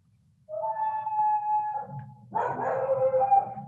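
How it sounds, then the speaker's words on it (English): Dogs bark and howl indoors, audible during a city council meeting in Woodland, California, with a sustained howl followed by a louder burst of barking and baying, fairly close and with no talk over it. "You hear the dogs."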